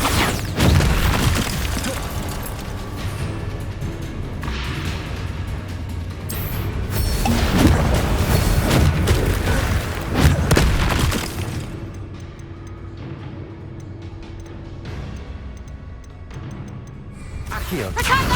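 Repeated Bombarda spell explosions in Hogwarts Legacy, with deep booming blasts and crashing debris in a loud, busy battle mix, music and game effects running throughout and a spoken voice over parts.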